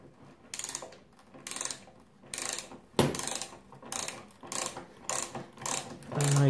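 A Parkside 8-in-1 multi-functional ratchet wrench clicks in repeated bursts, each a rapid pawl rattle lasting under a second, close and loud, with one sharper knock in the middle.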